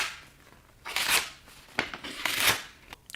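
Scissors on a Nextool F12 multitool cut through paper in two or three short, crisp snipping bursts, close up with quiet pauses between them.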